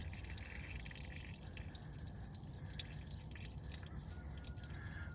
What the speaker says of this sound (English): I'm draining all the water until I start seeing the oil